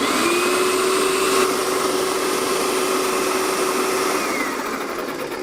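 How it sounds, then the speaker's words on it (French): An airless paint sprayer pump, set to prime, whirs in a steady motorized drone with a sustained tonal whine while drawing paint up from the pot through its suction tube, easing slightly toward the end. "Donc on voit que la pompe est amorcée parce qu'elle aspire donc par le gros tuyau et renvoie le produit dans le pot par le petit tuyau"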